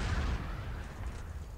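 A Panzerfaust launched at a tank in the video game Brothers in Arms, heard as a single deep, muffled blast at the start that rumbles and fades over a second and a half, fairly quiet overall.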